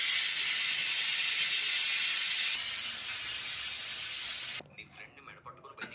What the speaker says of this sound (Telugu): ఓకేనండి, 2 విజిల్ రానిద్దాం.